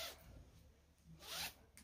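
A jacket zipper rasps in a couple of short, soft pulls, faint and close, with no talking.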